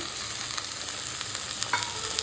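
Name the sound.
tomato, ginger, garlic paste frying with onions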